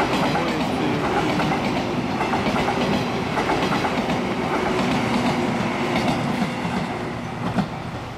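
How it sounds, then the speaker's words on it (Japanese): A train passes on the Shinetsu Line in Japan, a steady close rumble with rhythmic clickety-clack of wheels over rail joints that fades slightly near the end. "これは普通電車じゃないね。"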